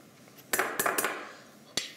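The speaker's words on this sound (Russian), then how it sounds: "я беру вот такой небольшой ковшик" A small saucepan is handled on a kitchen stove, giving a few sharp metallic clinks and knocks spaced irregularly, close and fairly loud, with no talking.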